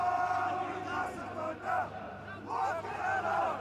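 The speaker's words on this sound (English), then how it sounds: "Good crowd, good noise from those Newcastle fans." Newcastle Thunder fans roar and chant in the stands at a rugby league match against Toronto Wolfpack, the crowd noise rising and falling in waves with a voice audible over it.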